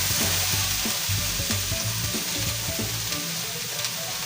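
Ground pork sisig ingredients stirred together in a hot pan with mayonnaise, giving a steady loud sizzle and frying hiss with repeated spoon knocks and scrapes throughout.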